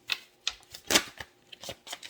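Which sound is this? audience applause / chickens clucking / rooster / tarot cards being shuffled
tarot cards being shuffled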